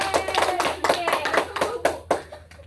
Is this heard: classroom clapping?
yes